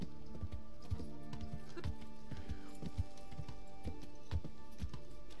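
Horse hooves clip-clopping in the medieval video game Kingdom Come: Deliverance, a steady rhythmic plodding of hoofbeats over a busy layered backdrop of game sound, close and continuous.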